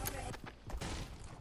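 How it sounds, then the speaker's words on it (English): Gunfire in a Fortnite Battle Royale match comes as a faint, rapid string of shots mixed with voice chat. "I'm being shot at."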